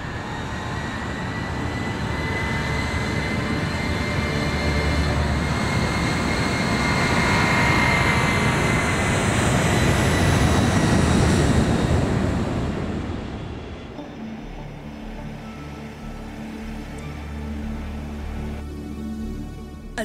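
Steady, heavy roar of an Airbus A380 passenger jet in flight on a long-haul route, loud and continuous throughout, then dropping to a quieter, lower cabin drone with faint tonal hum near the end.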